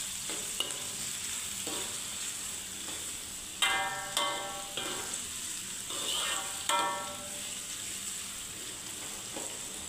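Onions frying on a newly connected stove, giving a steady soft sizzle with several sharper stirring scrapes and clinks at intervals, close up and fairly quiet.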